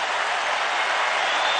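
A 20,000-strong stadium crowd rises in a standing ovation for Roger, a dense, even wash of loud applause that holds steady throughout.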